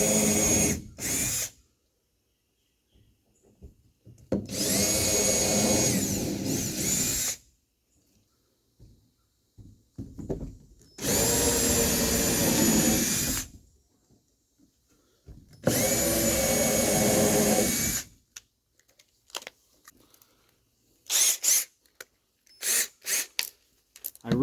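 A power drill boring holes in a wooden box built as a bee swarm trap, in several loud bursts a few seconds long separated by quiet gaps, followed by short scattered clicks and brief whirs.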